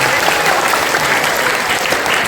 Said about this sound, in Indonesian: Tepuk tangan untuk teman-teman semua.